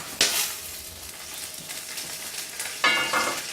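Popcorn finishing popping in a pot for caramel corn, with a few scattered sharp pops spread apart over a soft hiss, no voices present.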